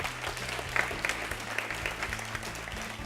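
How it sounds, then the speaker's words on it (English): Audience applause for a school quiz team at a quiz grand finale, steady crowd clapping with a low hum running underneath, holding at an even level throughout. "they deserve a round of applause"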